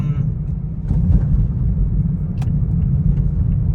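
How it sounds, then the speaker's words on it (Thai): Steady low engine and road rumble heard from inside a Lao sedan driving through Thailand, droning continuously and close with little variation. "คุณประกันนี่ขับรถเหมือนมืออาชีพที่อยู่ขับอยู่ไทยมานานมากเลย"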